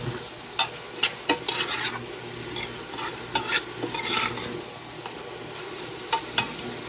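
Pancit canton noodles with chorizo are stirred and tossed in a sizzling pan, sharp scrapes and clinks of the utensil rising over a steady frying hiss, close and alone.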